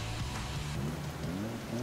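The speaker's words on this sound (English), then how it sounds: "Oh god, it's all raining and dark." Steady rain falling in the racing video game Forza Horizon 5, a dense, even hiss of raindrops with a low engine hum beneath, no talking.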